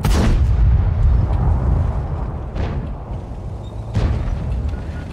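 Heavy gunfire in a video game: deep booming shots with long rumbling tails, a big blast at the start and further loud reports spaced a second or more apart, no talking.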